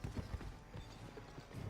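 Horse hooves clip-clopping in the Civil War-era western game GUN, a quiet, steady rhythmic patter of hoofbeats.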